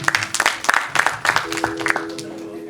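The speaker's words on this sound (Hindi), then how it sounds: "स्वागत करेंगे जोरदार तालियों के साथ।" Audience clapping at an Indian musical evening of evergreen hits, greeting the opening song: scattered, uneven claps at moderate loudness, with a sustained tone entering near the end.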